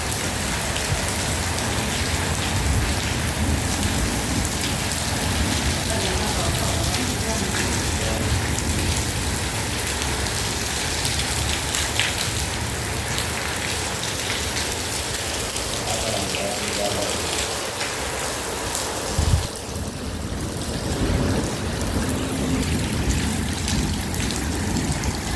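Heavy rain pours steadily on a village in Pakistan, a dense, loud, unbroken hiss of drops hitting surfaces for the whole stretch, with a brief thud near the end and no talking.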